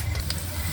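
Onions frying in a pan give a brief, soft, steady sizzle with a faint tick or two, heard close by.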